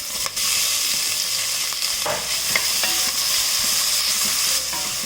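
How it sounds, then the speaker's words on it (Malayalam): Chopped green chilli and onion sautéing in a pan over a high flame give a loud, continuous sizzle with occasional stirring scrapes, close up and without any voices. "ഞാനിവിടെ ഹൈ ഫ്ലെയിമിൽ വെച്ചിട്ട് തന്നെയാണ് വഴറ്റി കൊടുക്കുന്നത്."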